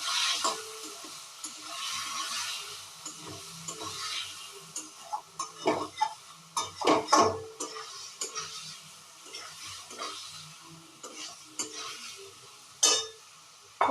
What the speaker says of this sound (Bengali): এবার দিয়ে দেবো আমি যেটা সেটা হলো আদা ভালো করে এটা দিয়ে কষবো